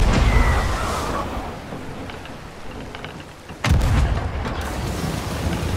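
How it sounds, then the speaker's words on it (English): Ship cannons firing in a naval video game: rolling, thunder-like booms and rumbling give way to a sudden loud blast, followed by a heavy sustained roar. "Good shot, good shot, good cannons"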